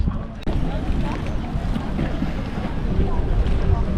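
Steady wash of wind and water around a sailboat near Zadar, with waves and wind buffeting the microphone throughout and no clear voices.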